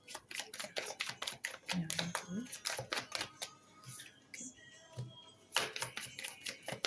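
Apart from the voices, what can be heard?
cards being laid out, one on each line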